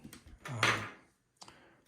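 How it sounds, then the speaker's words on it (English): The doors of a Star Wars Camtono toy open as a quick plastic clack and a short mechanical whirr, then a softer click after a brief pause. The sounds are close and quiet. "then we'll unlock it, and then we'll see how these doors open"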